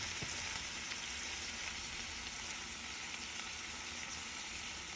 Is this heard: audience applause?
no